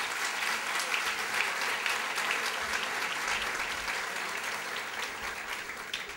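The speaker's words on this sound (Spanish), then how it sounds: "un aplauso para él ya" An audience at a historical football convention applauds a guest, with steady, dense clapping from many hands that holds at a fairly even level throughout and tapers slightly toward the end.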